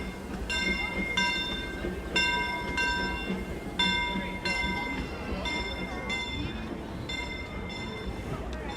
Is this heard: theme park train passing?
yes